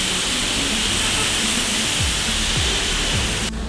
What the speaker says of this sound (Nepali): यति ठुलो पानी परिरहेछ